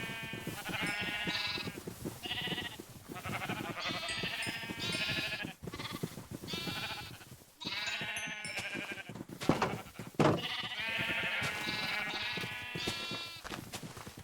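Minecraft gray sheep bleat over and over, a dense run of overlapping bleats from a large flock, loud and close, with no talking.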